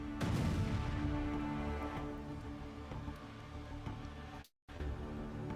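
A distant, muffled explosion booms out and then rolls away into a long, rumbling decay, cut by a brief dropout near the end.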